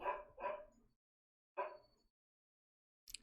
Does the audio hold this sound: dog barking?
yes